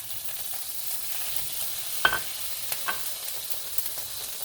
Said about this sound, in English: let's go ahead and get our clarified butter into our pan.